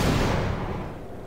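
An explosion in the video game Half-Life Source, a loud broad blast that rumbles and decays over a second or so.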